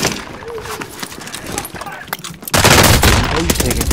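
Gunfire in a Warzone match on Rebirth Island erupts into a loud, dense burst of rapid shots after quieter background game noise, with a voice talking over it.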